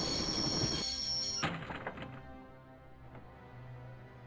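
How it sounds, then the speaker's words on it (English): A train being brought to a halt in the game Broken Sword: a heavy thunk and clank of railcars, then squealing, rumbling wheels fading as it slows, fairly quiet with no talking. "I always wanted to stop a train, and now was my chance."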